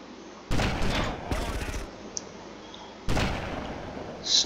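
Gunfire from GTA Vice City sniper combat: two loud sharp shots with decaying tails and a third blast later, plus a faint crackle between.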